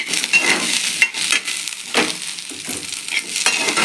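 Coconut pieces sautéing in a pan, a continuous close sizzle with a few scraping stirs across the pan at irregular intervals.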